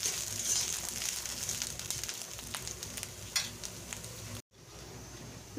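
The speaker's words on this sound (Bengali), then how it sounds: "নারকেল কোড়াটাকেও ভালো করে আমি এর সঙ্গে ভেজে নেব।" Grated raw coconut fries in a pan with a steady, close sizzle, punctuated by a few stirring scrapes and a brief drop in sound near the end; nobody speaks.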